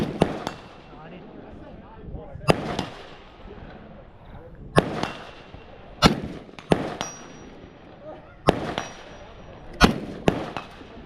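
Airsoft guns fired during a two-gun shooting run, producing about eight sharp, loud pops at irregular intervals, some followed by a brief metallic ring, with quieter handling noise between shots.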